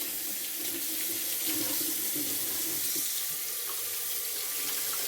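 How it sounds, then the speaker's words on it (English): A kitchen tap runs steadily as chicken is washed under it on a small tray, water splashing in a constant close hiss with no talking. "I'm going to put it on this little tray, and we'll wash it."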